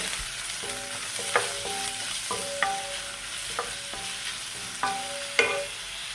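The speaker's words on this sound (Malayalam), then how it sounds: "ഇതെല്ലാം നമുക്ക് നന്നായി ഒന്ന് വഴച്ചെടുക്കാം" Onion, garlic, ginger and green chili sautéing in a pan, a steady sizzle broken by repeated scrapes and clinks of a spoon stirring, close and fairly loud with no voices.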